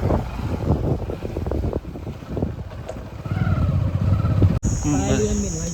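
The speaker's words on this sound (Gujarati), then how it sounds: "હવે જઈએ પાર્સલ લેવા બાઇક લઈને" A motorbike ride, with an engine drone and strong wind rushing over the microphone and someone talking over the noise.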